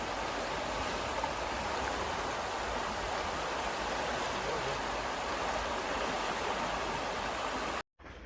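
A river rushes during a crossing on a straight-line hiking mission, a loud, even hiss of flowing water close by that runs unbroken until a brief cut near the end.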